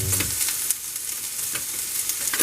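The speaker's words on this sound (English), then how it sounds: "So I'm going to let the onion cook for a little bit." Onions frying in a hot pan, a steady broadband sizzle with soft crackles and a faint stir near the start, close and continuous with no voices.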